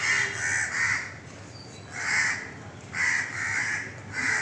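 A morning flock of crows caws in repeated harsh bursts, several calls overlapping at moderate distance against a low outdoor background, with no talk.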